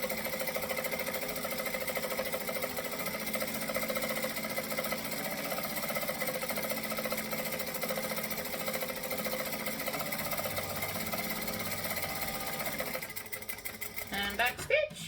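Sewing machine stitching vinyl for a travel bag at a moderate pace, a continuous steady mechanical whir throughout, ending in a few short stops and clicks.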